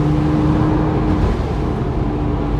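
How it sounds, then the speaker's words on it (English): A Porsche 987 Boxster's engine and exhaust drone steadily from close by while driving, a low rumbling hum with a faint constant tone, loud and unbroken. "you're always getting different sounds from the exhaust"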